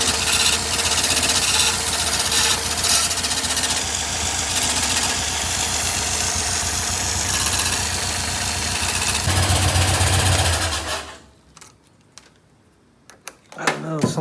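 A 1965 VW Beetle engine idles loudly and close with a fast, steady mechanical clatter and a tin piece rubbing on the timing gear, then cuts off, leaving a few faint clicks and rustles.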